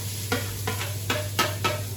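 Boiled greens being stirred into hot oil in a wok, with four or five distinct scraping strokes at a steady pace over a soft sizzle and a low background hum, close up.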